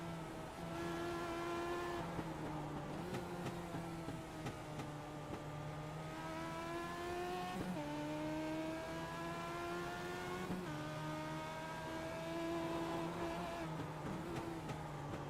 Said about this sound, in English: Here those revs come up as he shifts down for the more traction